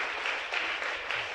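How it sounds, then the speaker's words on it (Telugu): Applause from the congregation at a Catholic Confirmation service, a steady wash of many hands clapping with no gaps, fairly even in level and heard without talk. "గట్టిగా చప్పట్లు కొట్టండి."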